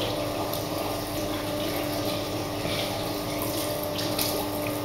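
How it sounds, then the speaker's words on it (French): Hands being washed under a running tap, a steady close rush of water from the faucet with small splashes, continuous and fairly loud with no talk. "je me lave les mains d'abord"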